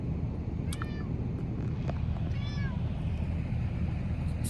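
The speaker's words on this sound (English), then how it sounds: "Sorry, small little detour for my cat." Pet cat giving a few short meows over loud steady wind and rumbling background noise.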